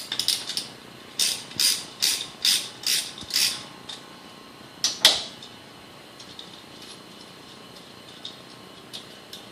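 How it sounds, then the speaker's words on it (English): A socket ratchet clicks in a quick run of about seven sharp bursts while unbolting an ignition coil pack from a car, then gives one louder click and a few faint ticks in a quiet garage. "you're going to want to get your socket and unbolt your coil pack from your vehicle"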